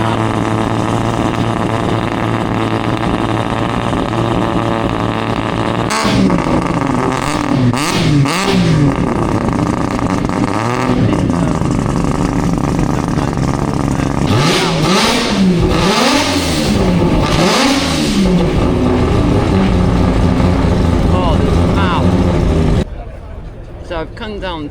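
Ford Supervan 3 race van, a very low-slung machine at Goodwood, revving its engine in repeated rising and falling bursts, loud and close, with crowd chatter and talk throughout.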